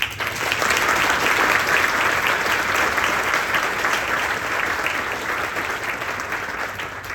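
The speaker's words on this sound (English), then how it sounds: "Please give our honored speakers another round of applause for all they've done to build their community." Sustained audience applause for honored speakers at the grand opening of the Jefferson Avenue Campus, a dense, steady wash of many hands clapping that holds loud throughout and eases slightly toward the end.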